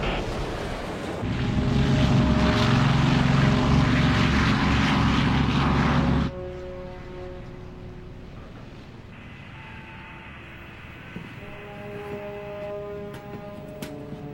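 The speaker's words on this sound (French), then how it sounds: "Notre satellite a détecté 2 avions de chasse chinois." Two Chinese fighter jets in a science-fiction film roar loudly with a broad engine drone that cuts abruptly to a quieter hum and tonal whine, with no voices.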